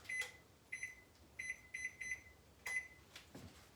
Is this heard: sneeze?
no